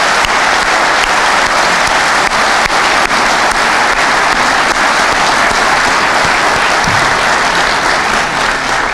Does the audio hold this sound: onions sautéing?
no